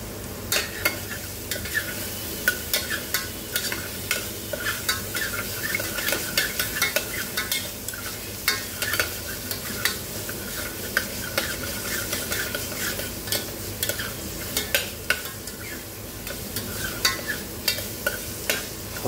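Crushed ginger garlic paste and onion frying in a spoonful of oil for paya soup, a steady close sizzle under repeated spoon scrapes and taps against the pan, with no talking.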